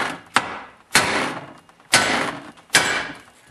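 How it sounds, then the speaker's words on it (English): A hammer strikes a grade 8 bolt four times, driving a seized snowblower impeller off its shaft; each sharp metallic blow is loud and close, spaced under a second apart, with brief ringing decay. "I stick it inside and then I just pound it out."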